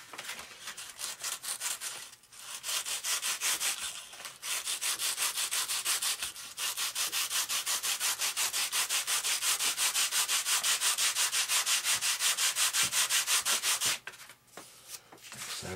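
Sandpaper rubbed by hand on a part for an F-86 RC airplane build, long steady rasping strokes with a couple of brief pauses, close and loud, no talking.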